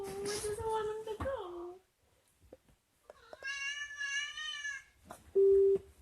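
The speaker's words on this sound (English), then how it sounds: "is that the cat that doesn't like it when you move away?" A house cat meows several times up close, with drawn-out, wavering cries separated by a short pause, then a steady electronic tone near the end.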